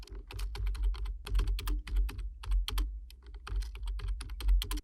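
Steady, rapid typing on a computer keyboard while a chart title is entered, with crisp key clicks in quick irregular bursts, close and clear with no talking.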